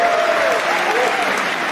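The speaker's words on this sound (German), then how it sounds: "Mein Applaus für Idi, bitte" TV studio audience at a comedy show warm-up breaking into loud, dense applause, with a few whistles or cheers rising over the steady clapping.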